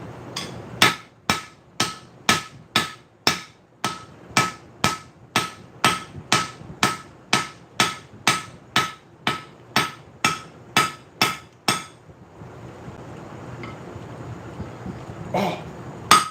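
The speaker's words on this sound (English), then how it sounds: "itty bitty little hammer." A tiny little hammer raps steadily, about two dozen crisp, evenly spaced taps close by, then stops and leaves faint room noise with one last knock near the end.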